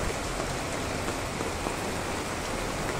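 Steady rain falls without a break, a dense, even patter that fills the whole stretch with no voices.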